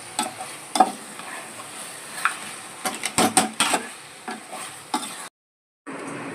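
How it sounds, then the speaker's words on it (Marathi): Mutton pieces stirred into well-sautéed onion in a pan for a mutton rassa, with repeated scraping and stirring strokes over a steady close sizzle, then a brief gap before the frying resumes. "आता याच्यामध्ये आपण मटण टाकणार आहे."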